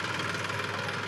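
Massey tractor engine idling steadily up close, a continuous low rumble with a faint knocking texture and no talk over it.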